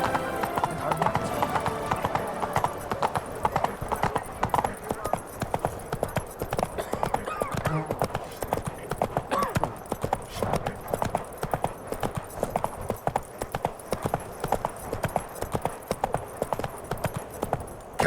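Horse hooves clip-clopping steadily in The Witcher 3, a rhythmic ride on a mount through Beauclair, with occasional whinnies and game voices and music underneath.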